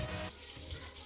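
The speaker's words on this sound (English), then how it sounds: "in that bowl I add half of a cup of water" Half a cup of water being poured into a bowl for bread and pizza dough, a brief soft splashing pour that stops after a moment, leaving a quiet trickle with no talk.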